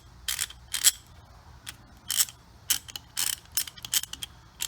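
Rebuilt Craftsman long-handled half-inch ratchet, model 44986, clicking through test turns: quick bursts of sharp, close ratcheting clicks in irregular groups, with brief quiet gaps between strokes and no talking.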